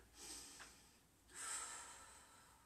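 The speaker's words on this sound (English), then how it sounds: "Two more deep breaths." Deep breathing during a yoga flow, two soft airy breaths with a faint hiss, the second longer and fuller, quiet and close with no talking.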